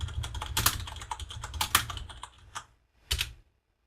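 Quick bursts of keystrokes on a computer keyboard as a git command is typed into a terminal, close and crisp, with irregular clusters of clicks trailing off into silence.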